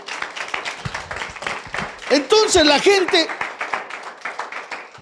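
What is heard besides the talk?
congregation applause in church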